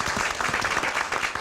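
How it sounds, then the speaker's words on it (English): Audience at a school district board meeting gives a round of applause, many hands clapping in a dense, continuous patter that fills the room, with a few voices faintly beneath. "Can we give them another round of applause for being here?"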